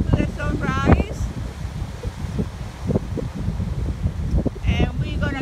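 Wind blows at sunrise, making continuous gusty buffeting and roaring noise against the microphone. A voice talks briefly over it.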